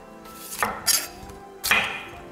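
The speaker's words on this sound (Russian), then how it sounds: "И тоже нарезаем вот так вот довольно-таки крупно." A knife cutting bell peppers on a cutting board, three sharp chopping knocks spaced unevenly, close and fairly loud against a quiet kitchen background.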